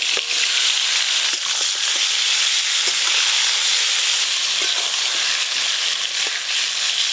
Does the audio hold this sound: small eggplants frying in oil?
yes